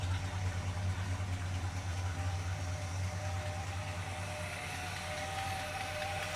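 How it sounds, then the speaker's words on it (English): A big block engine in a 1961 Plymouth State Patrol car with dual exhaust idles steadily, a deep continuous rumble heard up close with a faint whine above it and no talking. "Let's check out this engine, Chris."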